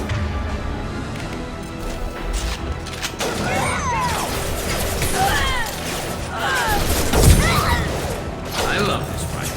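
Weapons fire during a Mass Effect 2 battle: a busy, loud stretch of gunshots, impacts and crashes with sweeping energy-like swoops, while voices speak over the combat.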